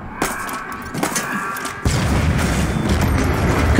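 A destroyed gun generator explodes in Halo Infinite: a few sharp blasts, then a loud, sustained roaring rumble of explosion and debris that fills the rest of the stretch.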